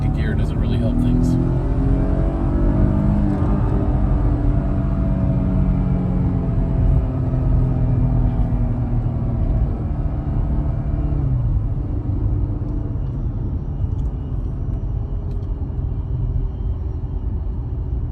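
A Porsche Panamera in sport mode launches from a standstill in second gear, its engine building in a loud rising roar that eases off later, with a voice talking over it.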